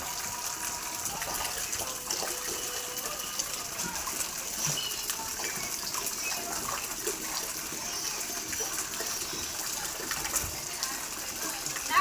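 Steady heavy rain hisses continuously in Porbandar, Gujarat, a dense, even wash of falling water with no pauses.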